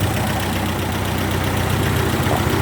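A 1963 MG B roadster starting from stone cold and settling into a quiet, steady idle, with an even low engine throb running unbroken and close by.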